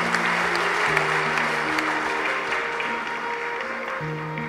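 A crowd applauds at a speech by Karunanidhi, steady broadband clapping running the whole time with faint sustained tones humming underneath, at an even, moderate level.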